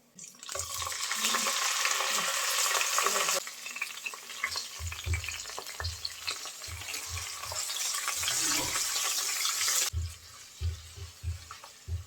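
Onion, ginger and garlic paste hits hot oil with cumin, cloves and cardamom, raising a loud, bright sizzle. Low thuds and scrapes of stirring come through repeatedly, and the hiss eases and then swells again.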